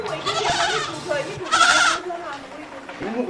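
A young goat on a farm bleats in a few short, wavering cries, close and clear, while someone talks over it.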